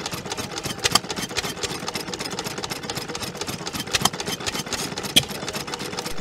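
A 2.5 horsepower Ruston and Hornsby stationary engine runs at a steam fair, ticking steadily with a rhythmic exhaust chuff, close and loud, with occasional sharper knocks standing out from the even beat.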